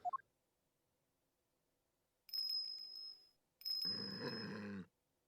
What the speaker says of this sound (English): And is that a bell around its neck?